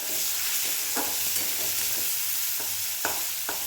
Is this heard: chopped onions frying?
yes